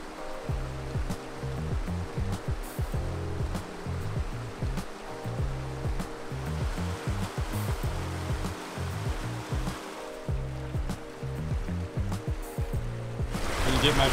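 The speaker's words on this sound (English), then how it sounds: "heading across the bridge at Illilouette Creek. Not a ton of water here right now, but a little bit of flow." Shallow water flows steadily in Illilouette Creek beneath a bridge on a Yosemite trail, a continuous rushing wash heard from nearby that swells slightly toward the end, with a low musical drone underneath.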